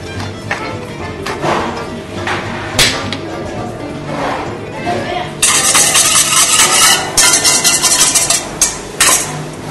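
Whisking a vinaigrette of vinegar, salt, pepper, piment d'Espelette and mustard in a bowl, producing quick clinking and scraping strokes that grow busier partway through, with someone talking in French.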